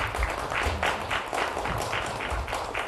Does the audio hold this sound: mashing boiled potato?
no